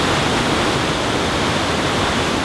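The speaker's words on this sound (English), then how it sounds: "It's actually raining" Steady dense hiss of rain falling outdoors beside a river, blending with rushing water, constant and fairly loud with no voices.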